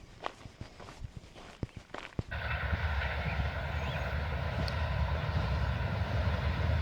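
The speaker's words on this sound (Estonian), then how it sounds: "Rong." A train passes nearby on a rural Spanish stretch of the Camino Francés between Moratinos and Reliegos, arriving as a sudden broad, steady rumbling roar that follows scattered footsteps and stays loud to the end.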